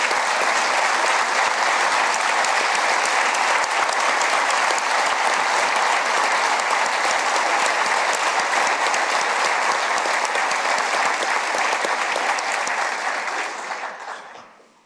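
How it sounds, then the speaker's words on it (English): A large crowd gives a sustained, loud round of applause at a state-of-the-state address, dense and steady for nearly fifteen seconds before tapering off at the end. "Will you all join me in giving Leda Wise Spirit a round of applause today?"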